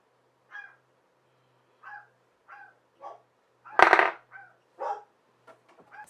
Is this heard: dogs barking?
yes